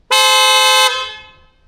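A Hella aftermarket horn on a 2025 Toyota RAV4 XLE hybrid blares in one long, loud, bright honk of just under a second, then rings out and fades into quiet.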